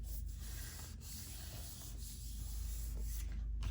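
Steady rubbing sandpaper strokes on a paper-covered craft piece for a Christmas house, close and continuous, with a few brief stronger passes.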